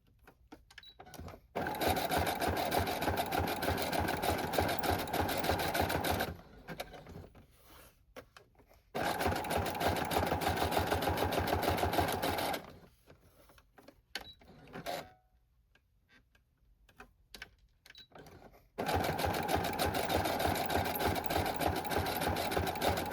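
A sewing machine stitches the edges of a handmade dust jacket journal in three long, loud, steady runs, stopping between them for quiet handling and small clicks of the fabric.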